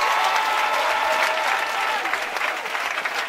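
A church congregation applauding steadily and loudly with some cheering, a dense continuous wash of clapping close by with no pauses throughout.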